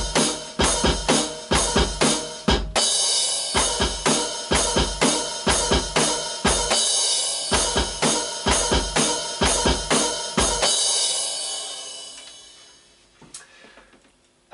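Drum pattern played on open hi-hats with snare, bass drum and a crash cymbal: steady rapid hits throughout, loud and close, with a ringing wash fading out at the end.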